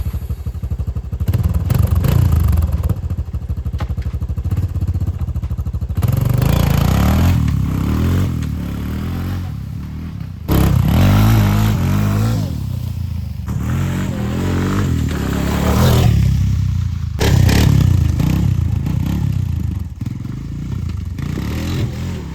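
Motorcycle starter motor cranking on a KemiMoto battery, several loud bursts of whirring and clattering separated by short pauses, with the engine catching and revving in between.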